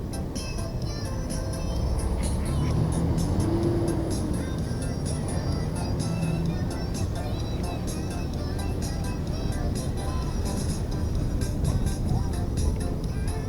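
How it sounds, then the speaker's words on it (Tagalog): Road traffic in Bulacan, a steady broadband rumble of passing vehicles that stays fairly loud throughout, with engine hum and passing swells and no clear talk on top. "Traffic guys."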